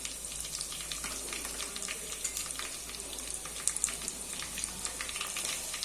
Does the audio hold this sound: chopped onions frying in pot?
yes